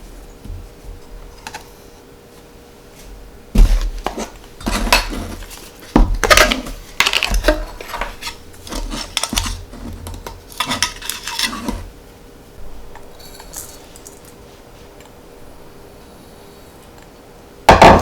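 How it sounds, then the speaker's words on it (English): Earl Grey cookie dough is stirred in a bowl with a makeshift utensil instead of a spatula, giving irregular clinks, scrapes and taps in uneven bursts, with quieter stretches between flurries. "I don't have a spatula, so I'm just gonna use this to stir everything."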